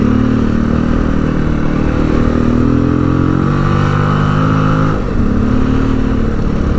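A Yamaha Ténéré motorcycle riding on an open road at steady highway speed, its engine droning loud and continuous with wind roar and a slight shift in pitch partway through.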